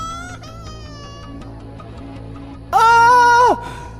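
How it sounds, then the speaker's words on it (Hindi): Loud, piercing baby cry used as a sound effect in an animated horror story, a single wailing burst near the end over a quieter tonal background. "अचानक मुझे एक बच्चे की जोर जोर से रोने की आवाज आने लगी।"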